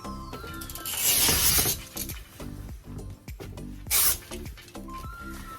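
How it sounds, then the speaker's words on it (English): A black rubber spline strip is pulled out of the channel of a screen door, making two scraping, rasping bursts over background music with a steady beat. "this little black rubber strip, it just pops on out"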